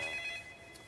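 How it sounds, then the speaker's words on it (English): A phone rings with a bright, rapidly trilling electronic tone, one short burst that fades out, close by and with no one speaking. "My phone's ringing."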